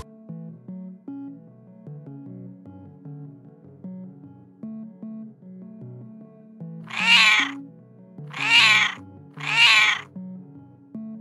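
A lost kitten cries for its mother in jungle undergrowth: three loud, close, drawn-out wails in a row, heard over a soft, steady tonal background.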